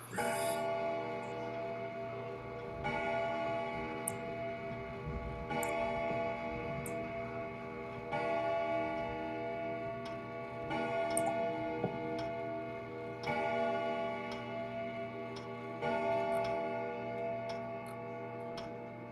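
A clock ticks steadily in the video game Evidence 111, a soft, regular tick repeating throughout over a quiet, sustained ambient tone.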